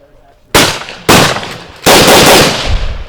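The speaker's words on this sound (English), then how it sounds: "I'm going to fire a bunch of rounds and just get a feel for it" Three loud rifle shots fired during test-shooting with an EA PS90 sight, spaced about half a second to a second apart, each a sharp blast with a long echoing tail.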